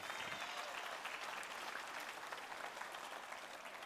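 A church congregation breaks into applause, a dense, steady wash of clapping hands heard faintly from within the hall for a few seconds.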